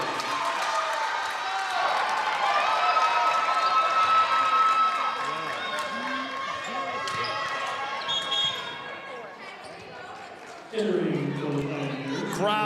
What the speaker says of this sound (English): Crowd is fired up for them as 6 points separate us.